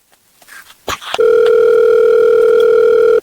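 A few faint clicks and a brief rustle, then a loud, steady telephone dial tone sounds continuously, close and clear.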